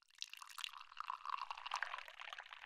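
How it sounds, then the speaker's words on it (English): Water poured in a steady stream into a Hario Largo tea brewer for full immersion tea, filling it to the top; a quiet, continuous close pour lasting a few seconds with no talking. "So I'm going to do full on 360 grams of water all the way to the top."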